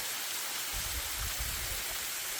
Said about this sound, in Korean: 깽룡이 폭포